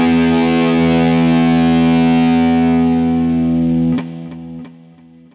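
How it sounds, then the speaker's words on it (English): Sustained distorted electric guitar lead chord run through a Fractal Plex delay, loud and ringing, then cut off near the end as several soft wispy repeats echo and fade away. "Some nice wispy Plex repeats there coming out at the end."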